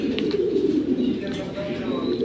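A large aluminium-silver pigeon of a military-silver collection coos in a low, steady murmur that runs without pause, close by and moderately loud, with faint chirps and other birds' calls behind it.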